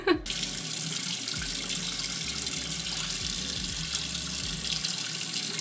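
Water running steadily from a bathroom sink tap while face cleanser is rinsed off, a constant close splashing flow with occasional hand-splash bursts, no talking.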